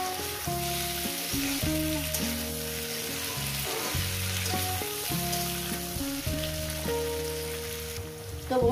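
Okra frying in a pan for a poppy-seed dish, a steady close sizzle with stirring and clinking of utensils, with music playing over it throughout.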